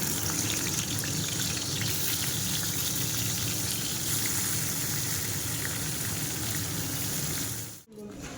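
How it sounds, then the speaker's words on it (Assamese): Eggplant slices fry in hot oil, giving a dense, constant crackling sizzle close to the pan that holds steady for about eight seconds before a brief dropout, with no one speaking. "কাটি লৈছোঁ বেঙেনাকেইটা ধুনীয়াকৈ, এতিয়া ফ্ৰাই কৰি দিওঁ।"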